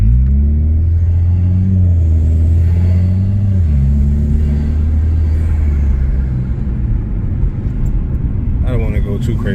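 A Chevy Cruze LS fitted with a downpipe and stock exhaust revs steadily, its engine note rising and falling in a loud, close drone while someone talks over it.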